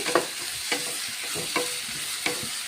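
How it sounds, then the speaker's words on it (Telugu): Sliced onions and green chillies sizzle softly in a pan under a steady low hiss, punctuated by a handful of distinct spatula scrapes and taps spaced about half a second apart. "ఉల్లిపాయలు వేగుతున్నాయి కదా"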